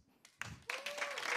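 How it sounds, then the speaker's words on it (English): Scattered clapping from a small stand-up comedy audience, a few brief hand claps building into a short burst of applause after a quiet start. "clap if you're a millennial and you own a house"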